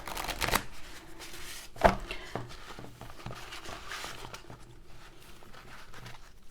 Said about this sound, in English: I will shuffle them on camera